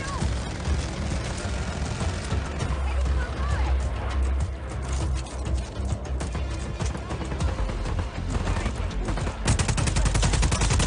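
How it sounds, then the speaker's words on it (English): Shotgun fire in Just Cause 4 amid a dense, continuous barrage of gunfire and explosions, loud and close, with rapid repeated shots near the end and a voice talking over the action. "Oh, I like the shotgun."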